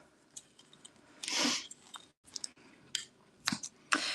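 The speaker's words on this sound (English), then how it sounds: "we're gonna have to cut. I gotta cut. Where's scissors?" Scissors snip through a stubborn clothing tag, a few close, crisp cuts and clicks at irregular intervals with one louder rustling burst, fairly quiet overall with no talking.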